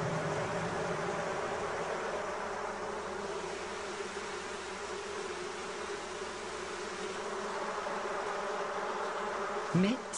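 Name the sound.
honey bees buzzing around hive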